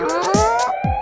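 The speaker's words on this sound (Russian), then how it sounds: "Это сирена, посмотри." A short burst of a wailing fire engine siren, rising tones with a pulsing pattern, loud and close, over a musical backing.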